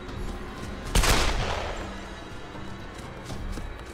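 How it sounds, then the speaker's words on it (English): Gunfire in the video game Tomb Raider: one sharp loud shot burst with a trailing rumble, followed by fainter scattered shots in the background. "He's shooting me."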